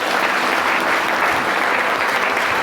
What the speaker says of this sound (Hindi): इसलिए जोरदार ताली अपने लिए बजा लो